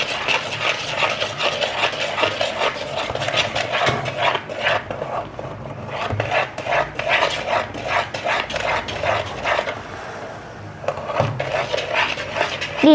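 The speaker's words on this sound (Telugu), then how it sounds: "ఇలా బాగా స్మూత్గా అయ్యేలాగా ఒకవైపే కలుపుతూ ఉండండి" Wheat flour cake batter being stirred in a bowl, a steady rhythmic scraping and sloshing of a spoon against the bowl, close and fairly loud, repeating continuously with brief pauses.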